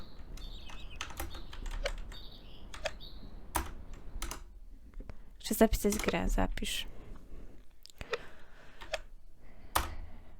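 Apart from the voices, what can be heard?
typing on a computer keyboard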